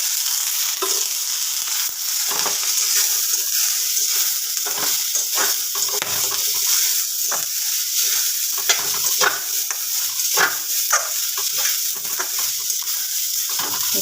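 Onions fry in a little oil, giving a steady close sizzle with frequent stirring scrapes and clinks throughout, and no talking over it.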